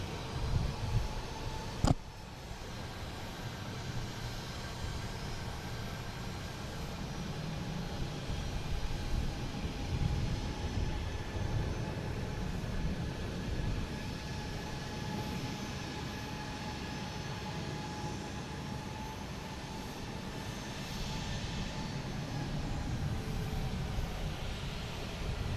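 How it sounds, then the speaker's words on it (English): A JetBlue Airbus A320 takes off from Boston Logan, a distant, sustained jet roar that holds steady and slowly swells without any talk over it. "But we have this JetBlue taking off, heading to Sarasota. An A320."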